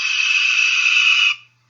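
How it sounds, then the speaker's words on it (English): A red-tailed hawk gives a single harsh, drawn-out scream lasting over a second, loud and close, then cutting off abruptly into silence. "the vocalization of the red-tailed hawk is also quite simple. The classic eagle-type scream you hear in the videos"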